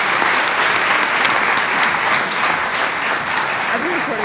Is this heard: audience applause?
yes